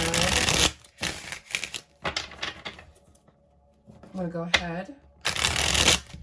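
Tarot cards being shuffled in several quick riffling bursts, close and crisp, broken by a short pause where a voice briefly speaks.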